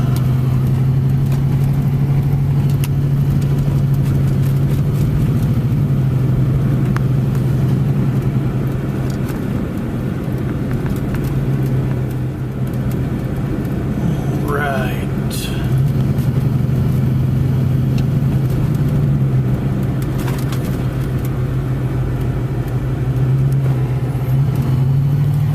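Car driving through Iguala in Guerrero, Mexico, with a steady engine hum and road rumble from inside the vehicle throughout, plus a brief rising tone midway.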